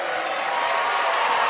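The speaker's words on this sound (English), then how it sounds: "the big crowd that came here to support LSU up on their feet, and they applaud the effort" A big crowd at an LSU versus Texas A&M basketball game applauds and cheers, a steady, dense wash of clapping and voices that holds at an even level throughout.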